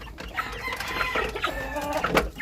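Mixed-breed native chickens and their chicks cluck and chirp close by in a steady, busy flurry of overlapping calls, with no talking.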